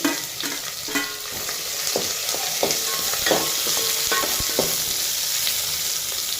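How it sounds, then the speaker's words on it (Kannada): Onions and green chillies fry in a hot pan, a steady close sizzle broken by repeated scraping knocks of a spoon stirring them, with no voices over it. "ಈರುಳ್ಳಿ ಫ್ರೈ ಆಗಿದೆ"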